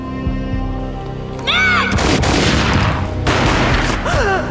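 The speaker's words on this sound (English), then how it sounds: "A gunshot boomed and she fell down in slow motion." Gunfire in the video game Max Payne: heavy bursts of shots and booms with loud rumbling blasts, set against swooping game effects and music.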